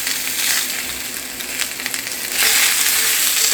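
Italian beef and Italian sausage sizzle steadily as they cook with garlic, a continuous hissing fry that swells louder near the end, with no talking.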